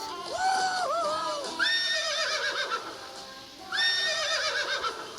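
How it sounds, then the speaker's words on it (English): A horse neighs in two loud, drawn-out whinnies with falling pitch, the second call starting after a short pause, with no talking over them. "Is that the horse?"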